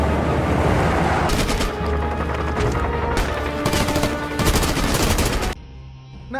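Dense, rapid bursts of automatic gunfire in a battle scene crackle continuously, loud and close, with booming impacts mixed in before the barrage abruptly cuts off near the end.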